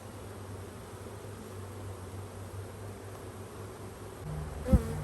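Honey bees around a swarm trap beehive, a steady, fairly faint buzzing hum that carries on throughout, with a brief knock near the end.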